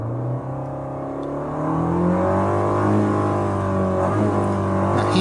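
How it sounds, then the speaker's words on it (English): A car with an automatic transmission revs steadily as the accelerator is pressed, its engine note climbing smoothly in pitch and loudness, close and continuous with no talking. "when I pushed on the accelerator, the RPM is going to increase"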